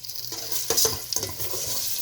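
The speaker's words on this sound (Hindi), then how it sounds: "ये मैंने कुकिंग स्टार्ट कर दी है। ये प्याज अभी गोल्डन होता है" Onions fry in oil in a pan with a soft sizzle, punctuated by a few close clinks and scrapes of a spoon stirring against the metal.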